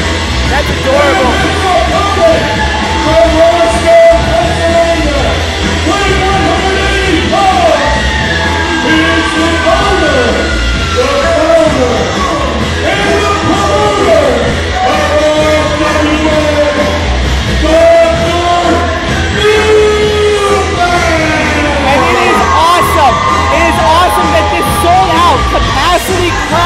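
A packed capacity crowd at an RWA Fury 2019 wrestling show yells, whoops and cheers continuously, a dense roar of many voices with individual shouts rising out of it throughout.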